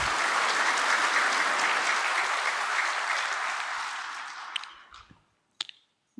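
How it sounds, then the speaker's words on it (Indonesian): Audience applause for graduates at a military officer graduation ceremony, broad steady clapping that gradually thins and fades out, leaving a few scattered last claps. "Tepuk tangan buat kamu semua."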